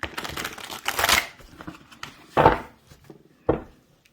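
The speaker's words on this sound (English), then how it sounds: "I'm going to shuffle one more time" A deck of tarot cards is shuffled in a few quick riffling bursts, with short papery flutters separated by pauses.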